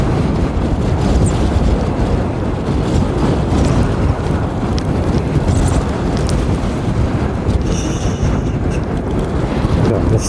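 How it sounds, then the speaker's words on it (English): Strong wind roaring through the woods near an old homestead, a loud, steady, continuous rush that buffets the microphone throughout, with no voices. "that wind's getting strong"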